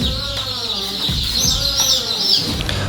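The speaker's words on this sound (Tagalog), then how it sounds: "Ayan mga lods, ang dami natin sisiw." A crowd of baby chicks peeps without a break, high, shrill and close, with rustling and faint movement beneath.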